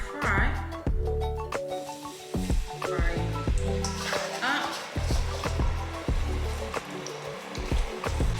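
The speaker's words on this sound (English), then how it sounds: "I'm just gonna go ahead and drop them in the fryer and let them fry." Cut potato fries dropped into a deep fryer for garlic parmesan fries, loud bubbling sizzle throughout with stirring clatter and a voice talking over the frying.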